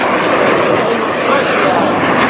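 A jet aircraft passing at the Oshkosh airshow, a loud, dense and steady engine roar filling the whole moment without any break.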